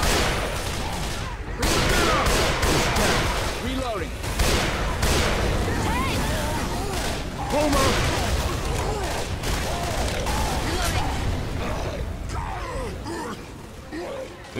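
Gunfire in Left 4 Dead 2 aimed at the Tank: dense, continuous shooting with booming blasts throughout, loud and close, with voices talking over it.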